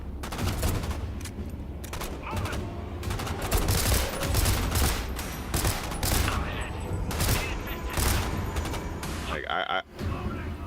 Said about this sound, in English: who else is still shooting in here?